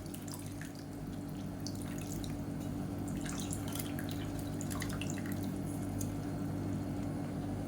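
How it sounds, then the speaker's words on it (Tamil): Tamarind water trickles and drips steadily into a simmering vegetarian curry pot, with soft wet splashes over a constant low bubbling hum; no one speaks. "இந்த ஸ்டேஜில் புளி தண்ணி தேவையான அளவுக்கு சேர்த்துக்கோங்க"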